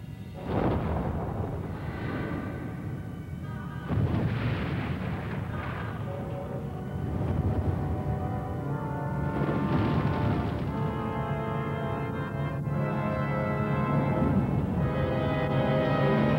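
Atomic weapon test explosion recorded on film, heavy rolling booms and rumbles swelling and fading in several waves, fairly loud and with no talk.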